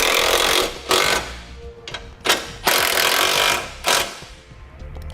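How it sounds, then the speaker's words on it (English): A power tool, likely an impact wrench, drives bolts securing a Demco base plate to the frame of a 2017 Ford Focus, firing in repeated loud, rattling bursts with short pauses between, close up. "Now we'll tighten the 3 bolts on each side that hold our base plate to the frame."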